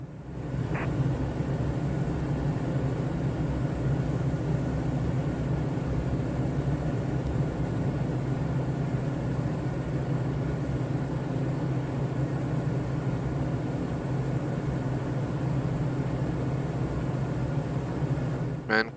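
Airplane descending toward a landing in Microsoft Flight Simulator on Xbox Series X, a steady, even engine and wind drone held throughout, with a brief click near the start and the end.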